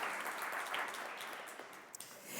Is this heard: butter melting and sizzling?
no